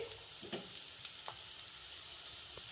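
Onion and curry leaves fry quietly in a pan for a cucumber palya, a soft, even sizzle with a few faint stirring clicks and no voices.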